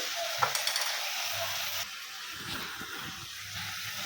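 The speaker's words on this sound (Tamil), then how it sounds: "உப்பு எல்லாம் சேர்த்து நல்லா வதக்கி எடுத்துருவோம்" Mutton with turmeric, chili powder and salt stirred and sautéed in a pan, giving a steady close sizzle with scraping stir strokes and a few light clinks, fainter in the second half.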